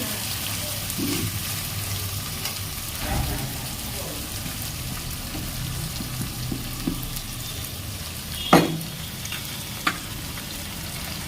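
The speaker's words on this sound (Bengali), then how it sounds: "মশলার সঙ্গে কষে ভালো করে কষে নিচ্ছি আলুগুলো" Potatoes being stir-fried with spice paste in hot oil for a light chicken curry, a steady close sizzle with occasional scraping stirs and one sharper clatter near the end, no voices.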